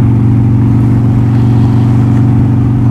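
A motorcycle engine with a newly fixed throttle and a freshly fitted windshield, rumbling steadily and loudly up close with a strong low drone and slight revving throughout, no talk.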